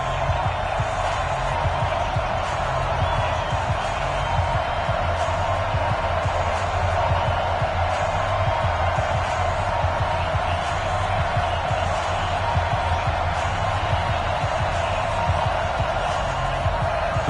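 Stadium crowd at a Baltimore Ravens versus New York Giants game in an EA Sports NFL video game, a steady, dense roar running unbroken throughout, with voices faintly mixed in.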